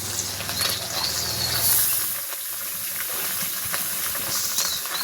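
A pot of rice water on a clay stove boils hard, giving off a steady loud steam hiss with some low bubbling and rumble early on.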